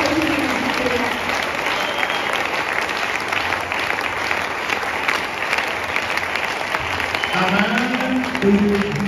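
A church congregation applauds steadily and loudly, the dense clapping continuing without a break, with voices faintly mixed in near the end.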